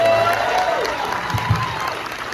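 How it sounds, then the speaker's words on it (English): Audience applause fills a theater at the world premiere Q&A of the film Queen of New York at NewFest35, a steady wash of clapping with a voice speaking over it. "A big round of applause."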